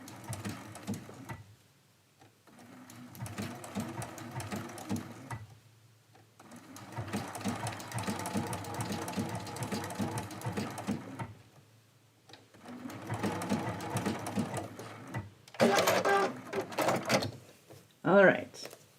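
A sewing machine stitches a quilt in several runs of rapid, steady needle chatter, broken by short pauses and followed by a few brief mechanical clicks near the end.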